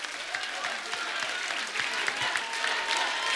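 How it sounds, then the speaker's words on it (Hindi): Loud, sustained applause from a studio audience on the Kapil Sharma Show greets Tiger, a dense wash of clapping with scattered cheers running steadily throughout. "टाइगर के लिए जोरदार तालियां"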